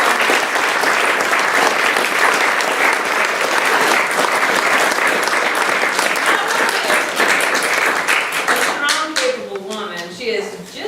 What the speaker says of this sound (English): So let's give a big hand, a round of applause to Brianne Lyons.